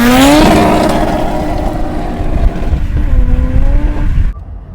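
A four-wheel-drive 20-valve turbo Mk1 car revs hard, its engine pitch climbing and falling through loud, close acceleration before cutting off abruptly near the end.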